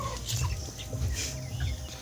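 Native chickens on a small farm cluck and murmur close by in a steady, continuous stream of low calls with a few brighter squawks over the top, and no voices.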